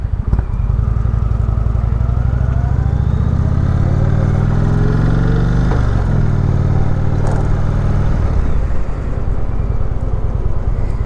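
A 2017 Indian Springfield motorcycle engine roars steadily and loudly during a test ride, its deep drone shifting in pitch as the bike accelerates and changes gear, with no talking.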